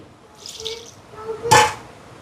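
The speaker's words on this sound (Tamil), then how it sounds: "விட்டுட்டு கொஞ்சமாக பச்சை தண்ணி" Cold water poured into idiyappam flour dough in a home kitchen, a short splashy pour with soft trickling, then a brief louder splash, close up and with no talk.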